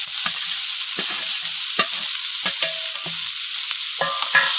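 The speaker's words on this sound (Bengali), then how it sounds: "এবার ভেজে রাখা মৌকি মাছগুলো সজনোর মধ্যে দিয়ে দেব" Pre-fried mourola fish are tipped into a pan of drumsticks for a mustard-paste chorchori, bringing a constant hissing sizzle broken by scattered scraping knocks of a spatula stirring the mix.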